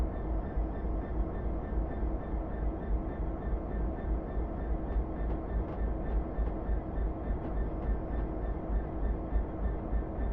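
A Class 66 DRS diesel locomotive in Train Simulator 2015 drones steadily at low pitch while pulling a stock move, with faint rhythmic clicks from the track running beneath it; no voices.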